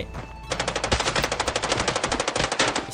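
Rapid automatic gunfire in the shooter game Arena Breakout, a loud burst of about two dozen evenly spaced shots after a short lead-in of ambient game noise.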